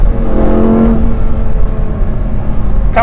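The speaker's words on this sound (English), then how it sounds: "When you blip it, when you lift off the throttle," A 2008 Lamborghini Gallardo's engine hums steadily and loudly from the cabin while driving, with a brief throttle blip on a shift at the very end.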